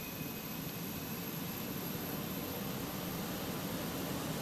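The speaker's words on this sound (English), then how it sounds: "Oh, there's a plane." A jet airliner in a flight simulator game drones steadily as a broad, constant engine roar with a faint high whine, even in loudness throughout.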